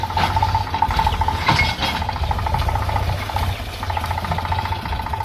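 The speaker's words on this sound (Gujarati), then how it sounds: "અત્યારે ટ્રેક્ટર આવીને ચાલુ થઈ ગયું છે" A tractor engine runs steadily nearby while working a cotton field, a continuous low chugging rumble with light metallic rattles and no talking.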